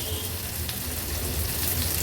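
Finely chopped onion sizzles in a pan over a low gas flame, a steady dense crackle and hiss that stays even throughout.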